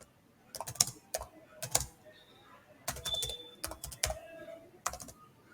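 Someone typing HTML code on a computer keyboard, with bursts of quick key clicks separated by short pauses, close and fairly quiet, with no speech.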